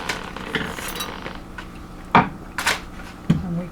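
Knife working through a hot roast on a cutting board, with scattered soft clinks, taps and scraping of cutlery and board, including a few sharper knocks, close by and fairly quiet.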